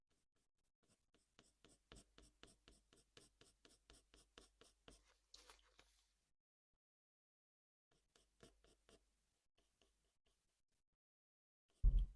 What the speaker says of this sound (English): Kind of flicking my pencil out as I do this to create that texture of the fur.